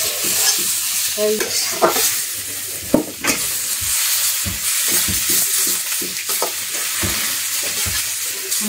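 Food sizzles steadily in a pan on a home stove while a utensil scrapes and clinks against it in irregular strokes, close and fairly loud.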